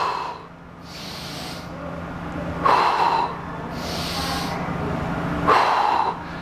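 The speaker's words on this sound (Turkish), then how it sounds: "Nefes alıyorum." A person inhales deeply twice while doing arm exercises with a resistance band, each breath a short airy rush close to the mic, with quiet room tone between.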